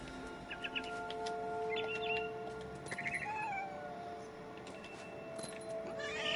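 A cat meows and caterwauls in the video game What Remains of Edith Finch over a faint steady background, with bird chirps scattered through; moderately quiet, no talking.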